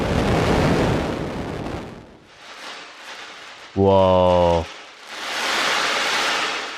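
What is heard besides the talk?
black hole X-ray data converted into sound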